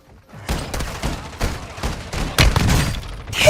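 Shotgun blasts in a video game firefight, a series of heavy booming shots spaced about half a second apart, close and loud, with a bright crash near the end.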